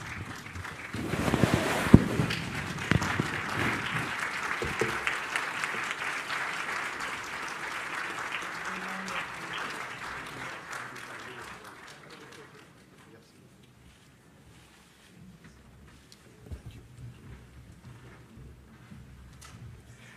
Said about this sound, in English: Please rise and acknowledge the applause.